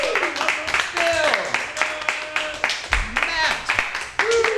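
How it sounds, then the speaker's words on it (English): Scattered audience clapping for improv players at a live show, heard under a loud nearby speaking voice that dominates throughout, with bursts of claps between phrases. "give a big round of applause for your players"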